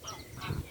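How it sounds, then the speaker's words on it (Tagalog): A large bird gives a short, faint honking call, brief and somewhat distant. "Super laki po niya yung ibon na yan."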